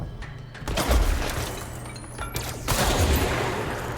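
A sniping weapon fires in the video game Control, with sharp bursts of gunfire crackling and booming in several clusters amid impact debris and mechanical clatter, without talk.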